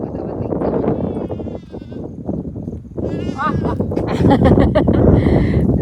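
Goats and sheep bleat in a village setting, several wavering calls close by, overlapping with wind noise and people talking.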